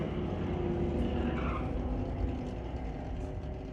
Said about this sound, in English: Both cars away on green lights.